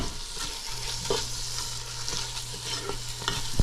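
Black rice is stirred and fried with seasonings in a pan: a steady close sizzle with repeated scraping strokes from the stirring utensil, ending with a sharp clink.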